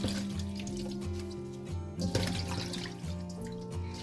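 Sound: washing vegetables under running water

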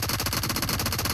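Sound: gunfire in PUBG Mobile video game

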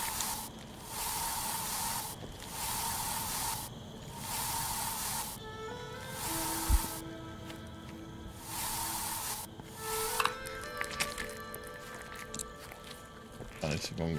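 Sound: spray can spraying in the video game I Am Future

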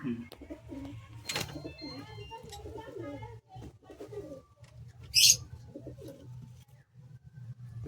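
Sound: pigeons cooing in a loft

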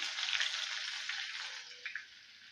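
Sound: onions sizzling in oil with mustard, fenugreek, cumin

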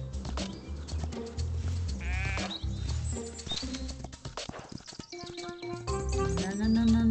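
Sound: sheep bleating in a video game

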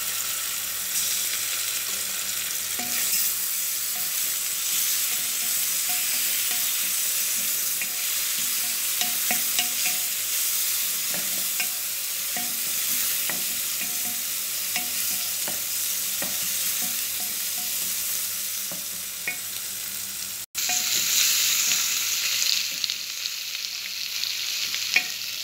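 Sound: garlic and ginger paste frying and being stirred with onions

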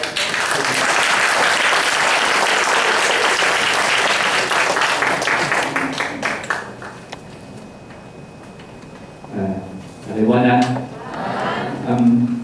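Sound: audience applause welcoming the speaker at a lecture

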